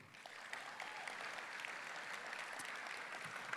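A banquet crowd at the Salinas Valley Sports Hall of Fame applauds the night's first inductee, football player Ed Brown, with sustained, even clapping heard from a moderate distance, fairly quiet throughout.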